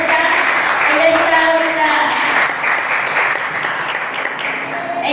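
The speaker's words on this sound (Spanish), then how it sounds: "Quiero invitar a Jessica, si le damos un aplauso" Steady applause from a crowd, sustained and fairly loud, with a voice or music-like tones running underneath.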